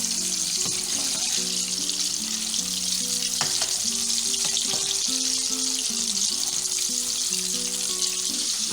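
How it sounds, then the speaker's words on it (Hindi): Chicken 65 pieces deep-fry in oil with a steady bubbling sizzle beneath continuous melodic background music. "अभी आपकी फ्राई हो गई चिकन।"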